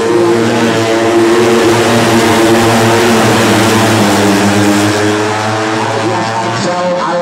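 A racing motorcycle revs hard at the Sentul circuit in a 2023 OnePrix superpole race, a loud, steady high-pitched engine drone holding its pitch throughout without pause.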